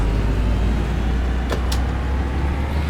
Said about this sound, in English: I do like my bus sounds.